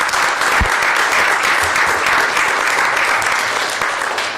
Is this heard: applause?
yes